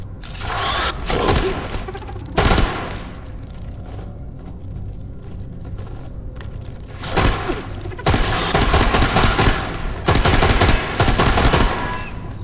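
AK rifle gunfire in a video game, heard as several loud rapid bursts of automatic shots with short gaps between them, and quieter game ambience in the pauses.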